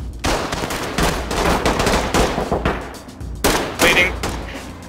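Rapid automatic gunfire in the tactical shooter Ready Or Not, loud and close: sustained bursts of sharp shots with short pauses between them and a final volley near the end.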